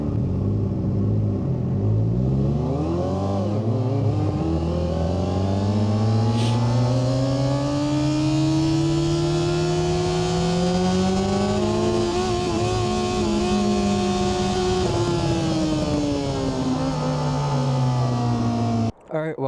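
A Kawasaki ZX-4RR fitted with a DB killer rides along, its engine rising and falling through gears in a continuous close, buzzing drone with wind noise, ending abruptly.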